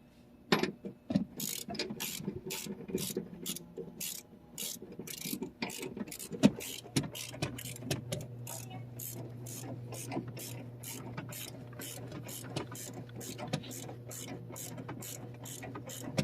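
Close up, a ratchet tightens a bolt on the under-seat storage box bracket of a 2009-2014 Ford F150 SuperCrew cab, giving a steady run of rapid, sharp clicks that continues almost without a break.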